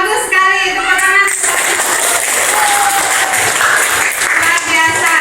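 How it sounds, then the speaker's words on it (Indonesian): Classroom applause from schoolchildren after a lesson, a loud steady burst of clapping that fills the room, with a teacher's voice speaking briefly at the start. "Bagus sekali, tepuk tangan."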